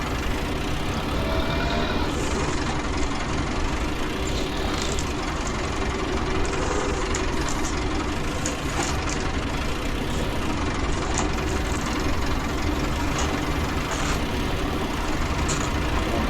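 Small grey Ferguson tractor, a farm's first from 1950, running steadily at idle on a March 1967 ploughing day, a continuous chugging engine drone with knocking texture that stays constant throughout with no speech.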